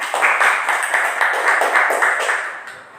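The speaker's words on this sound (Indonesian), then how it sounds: "Sekali lagi tepuk tangan dan aplaus buat kita semuanya." Students in a classroom clap together, a moderately close, fairly loud patter of hands with slight rhythmic pulsing that tapers off near the end.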